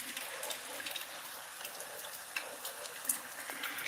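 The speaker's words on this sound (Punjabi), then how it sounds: "ਬਹੁਤ ਤੇਜ਼ ਬਾਰਿਸ਼ ਜਿਹੜੀ ਉਹ ਪੈ ਰਹੀ ਹੈ" Heavy rain pours down steadily in a Punjabi village during days of continuous downpour, a dense, even hiss with scattered sharper drips and splashes, no voices.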